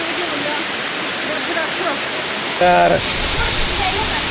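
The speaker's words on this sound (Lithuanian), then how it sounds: "Krioklys per sausai sezoną." A waterfall on the island of Koh Kood, running low in the dry season, pours as a constant dense rush of water heard nearby, with a brief voice cutting in near the end.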